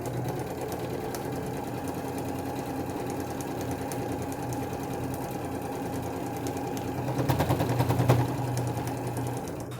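A sewing machine stitches straight quilting lines through fabric and batting for a handbag, a steady close mechanical whirr running throughout with a slight louder surge near the end.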